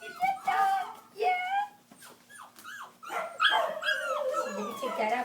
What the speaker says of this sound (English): It's a little lap dog. It's a dog.